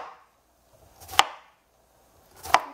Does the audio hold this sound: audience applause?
no